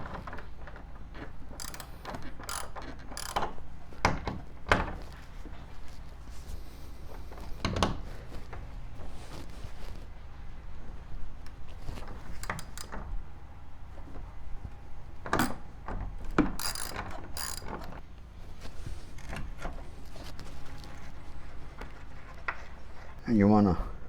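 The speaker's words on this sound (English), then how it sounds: "Just gonna loosen these 1/2-inch bolts." Half-inch bolts on a C3 Corvette hood are loosened with a ratchet, sharp scattered clicks and metallic clanks of the wrench coming in irregular bursts, close and fairly quiet against a low background hum.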